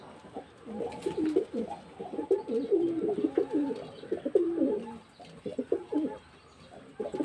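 Pigeons being fed rice coo steadily and close by in a long, pulsing chorus of low throaty calls, with a few faint chirps, on a hot day.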